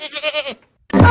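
A goat gives one short, wavering bleat up close, followed after a brief pause by a burst of rough noise.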